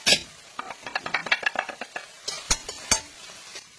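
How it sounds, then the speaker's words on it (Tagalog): Garlic stirred into a pan with caramelizing onion and oil, a rapid series of light spoon scrapes and clinks over a soft sizzle, close and fairly quiet. "Next, let's put in our garlic."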